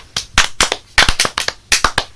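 Students in a French-language class clap in short, uneven bursts of sharp, distinct claps, loud and close, with brief gaps of near silence between the clusters.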